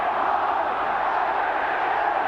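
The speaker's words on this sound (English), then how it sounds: "The crowd count down the final seconds." A large stadium crowd at a 1992 New Zealand versus Great Britain rugby league match roars in a dense, continuous wall of voices, loud and sustained as the final seconds tick away.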